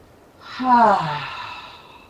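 A deep breath during a yoga session: one long, close, audible inhale-exhale that swells and fades slowly, with a faint voiced sigh in the middle, alone in a quiet room.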